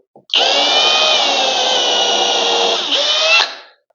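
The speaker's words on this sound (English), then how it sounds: "I'm going to pre-drill the wall." A power drill with a 3mm bit pre-drills a wall, whirring steadily at high speed for about three seconds, close by, briefly dipping in pitch before spinning down.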